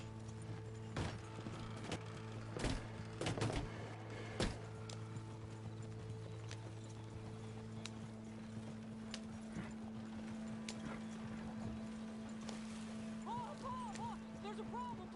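Horses pulling a stagecoach in the video game Red Dead Redemption II: faint, steady clip-clop of hooves with creaking wagon mechanisms, heard at low level throughout.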